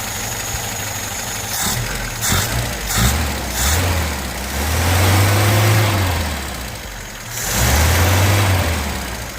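A VAZ 2108 with a Solex DAAZ carburetor idles evenly close by, its engine rising in a few brief revs and then two longer, smooth swells before settling back to idle, with no voices.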